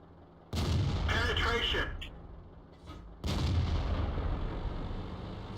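Two heavy tank cannon shots from the World of Tanks video game boom loudly, each followed by a long rumbling tail, with game chatter and a voice faintly under the sound.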